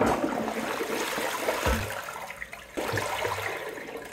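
A toilet packed with flushable baby wipes is flushed, giving a loud gushing rush of water with gurgles, a brief drop and then a renewed surge of swirling flow.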